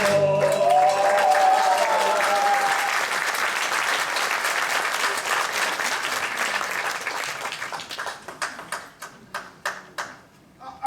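Theatre audience applause after a song, dense and sustained at first with a fading musical note over it, then thinning to a few separate rhythmic claps near the end.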